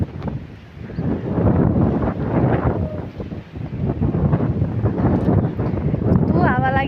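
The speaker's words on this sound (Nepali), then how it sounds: "माइ गॉड, हावाले त उडाउला जस्तो गर्छ" Strong gusting wind ahead of a storm, roaring steadily and buffeting the microphone, while people talk over it.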